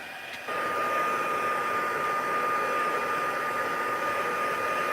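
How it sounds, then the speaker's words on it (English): A handheld craft heat tool blows steadily while drying the back of a craft piece on a silicone craft sheet, switching on abruptly then holding a loud, constant whooshing hum at close range. "And when I heat the back side, that helps it dry flat."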